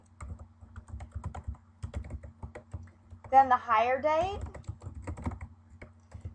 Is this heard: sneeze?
no